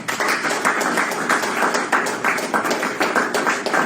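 A crowd at a property sales masterclass claps together, fairly loud and close, with a loosely rhythmic pattering of many hands and no one speaking.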